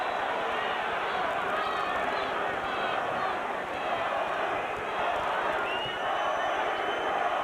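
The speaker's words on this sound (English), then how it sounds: "Crowd is chanting, Vitaly, Vitaly, Vitaly." Boxing arena crowd at the Klitschko vs Sanders heavyweight fight, thousands of fans chanting a fighter's name in a steady, loud roar that fills the hall continuously, with dense massed voices rising and falling throughout.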